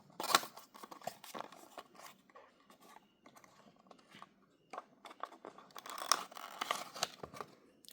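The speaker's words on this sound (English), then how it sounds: "Okay, so let's unbox this" A MiniGT Lamborghini Huracan GT3 EVO model car box is unboxed up close: quiet, sporadic cardboard scratching, tearing and crinkling with irregular sharp bursts and no talking.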